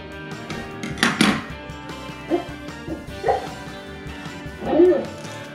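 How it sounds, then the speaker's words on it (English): A sleeping dog whimpering and giving soft muffled yips during a dream, several brief bursts spaced out over a few seconds, close by and fairly quiet, with an indoor background. "I don't know if you can hear my dog."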